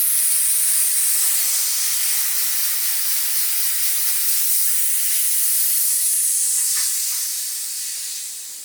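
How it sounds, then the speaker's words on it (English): Air hisses steadily out of a bicycle tyre valve as it deflates, a continuous close bright rush that holds through and fades slightly at the end, with no talking. "you'll need to deflate the tire, unscrew the valve cap"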